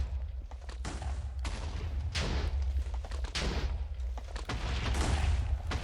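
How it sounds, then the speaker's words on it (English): Goblin-thrown bombs go off in the Spellbound Caves II goblin grotto, several muffled thumping blasts arriving in quick irregular bursts over a low, steady rumble. "some of those goblins are throwing, like, bombs, apparently"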